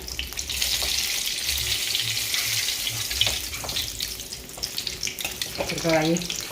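Tilapia fish shallow-frying in a pan, a steady broadband hiss of hot oil crackling throughout, with a brief scrape or splash near the end and no talking.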